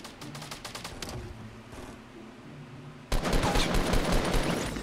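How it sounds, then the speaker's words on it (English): Rapid automatic gunfire in Fortnite, a Battle Royale video game, aimed at the player: dense bursts that start moderate, then turn loud and continuous for the last couple of seconds, with no talk over them. "I got shots fired at me"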